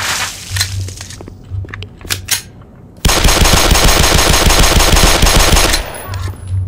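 Sustained rapid automatic gunfire in the video game Black Mesa bursts loud and dense for about three seconds, following scattered shots and impacts, with low rumbling between.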